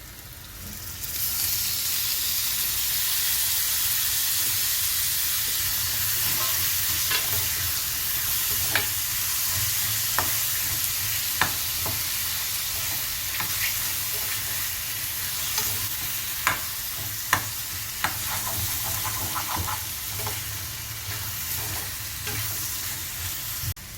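Cucumber pieces fry in green chilli paste with a dense, continuous sizzle that holds for the whole stretch, dotted with light clicks and taps from stirring.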